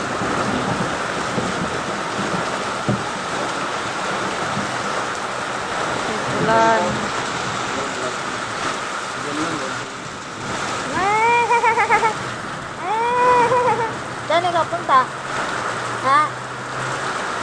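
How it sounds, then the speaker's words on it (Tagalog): Steady heavy rain hisses and splatters throughout, with a few short voices and animal-like calls rising above it now and then. "Umuulan oh. Malakas oh."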